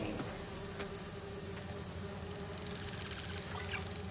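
Continuous insect-like buzzing of virtual bee wolves in a video game, a steady dense drone with faint flickering clicks and no talk over it.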